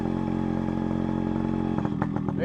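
An RX motorcycle engine runs steadily while being ridden, a close mid-pitched hum that turns choppy and clattery near the end as the throttle changes, with no talk over it.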